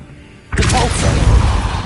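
A Revelio spell cast in Hogwarts Legacy, a loud magical whoosh that bursts in at once after a quiet half second and then holds as a dense, shimmering swell for the rest of the moment.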